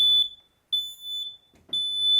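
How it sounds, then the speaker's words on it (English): A smoke detector sounds during a fire department open house demonstration: three loud, piercing high-pitched beeps in a regular rhythm with short silent gaps, close by and alone. "he's going to start off with the sound of a smoke detector"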